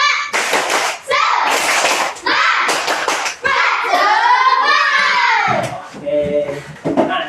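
Rhythmic hand clapping in patterned bursts in a school classroom mixes with children's voices chanting and shouting nearby.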